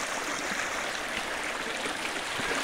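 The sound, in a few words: flowing creek water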